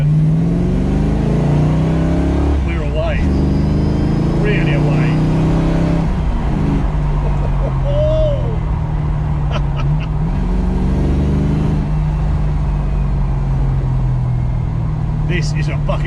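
A 1965 Ford Mustang restomod with a 5.0 HO V8 and five-speed gearbox accelerates, its deep engine note rising and shifting steadily for a long stretch, with a voice speaking over it.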